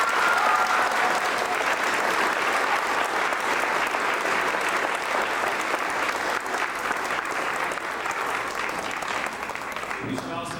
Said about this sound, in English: give the 3 fifth grade teachers one more big round of applause